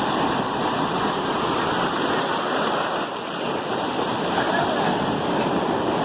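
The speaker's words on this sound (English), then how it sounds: "Waves coming in pretty good." Ocean waves roll in against the rocks at St. Pete beach as a steady, loud wash of surf with no pauses.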